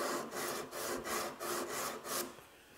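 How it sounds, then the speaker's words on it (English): Hand sanding wood with 180 grit sandpaper, a close rasping sound in about six even back-and-forth strokes, with no talk. "Just a few swipes with a sander, 180 grit."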